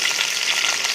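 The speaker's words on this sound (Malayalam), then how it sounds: "പച്ചമുളക് എന്നിവ ചേർത്ത് 1 മിനിറ്റ് നന്നായിട്ട് വഴറ്റുക" Crushed ginger, garlic, curry leaves and green chillies sauté in hot coconut oil after mustard seeds have spluttered, while an okra masala is being cooked. A steady, close, continuous sizzle fills the moment with no talking.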